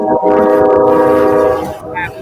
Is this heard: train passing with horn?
yes